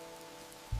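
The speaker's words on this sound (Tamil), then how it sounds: "மழை அதிகமா இருக்கு கண்ணா" Heavy rain falls as a steady, faint wash of hiss, with no voices, ending in a brief low thump.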